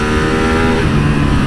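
A Ducati Streetfighter V2 mid-displacement motorcycle engine pulls hard under acceleration, a loud, close, continuous roar with rising pitch that shifts midway through the short burst.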